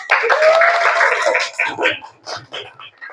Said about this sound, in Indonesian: Kasih aplaus buat temennya